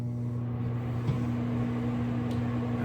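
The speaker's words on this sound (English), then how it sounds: "we're gonna put the pizza sauce in the microwave, covered" A microwave oven hums steadily while warming covered pizza sauce, a constant low drone with faint mechanical whir and no talking.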